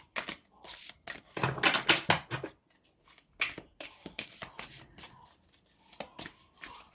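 Tarot cards are shuffled by hand in quick, close riffling bursts, then flicked and laid down in softer, separate taps, with quiet pauses between the handling sounds.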